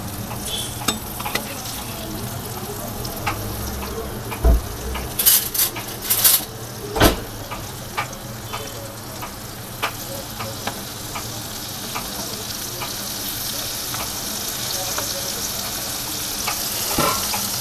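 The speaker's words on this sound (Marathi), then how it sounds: "मी मच्छी वन साईड फ्राय झाली तर वन साईड अजून फ्राय व्हायची आहे" Fish frying in a pan, a continuous near sizzle with a few sharp metallic clanks of turning and stirring midway, no talk over it.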